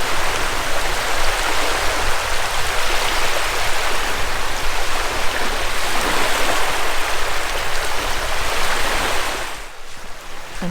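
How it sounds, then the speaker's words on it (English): Sea waves wash onto a beach in Anglesey, a continuous loud rush of surf and foaming water close by that holds steady before easing slightly at the very end. "there's something so mesmerising about the sea and the sound of the waves."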